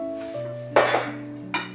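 Metal cooking pots clank and clink together in a home kitchen during decluttering, two sharp bright knocks over a faint steady hum, close and fairly loud.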